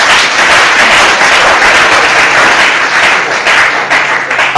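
A church congregation applauding during a French-language sermon, loud dense clapping sustained throughout at close range with no pause.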